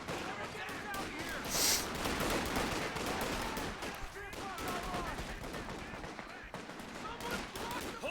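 Artillery and gunfire in the World War II strategy game Company of Heroes 2, Ardennes Assault, with dense bursts of shots and rapid fire in a continuous battle din.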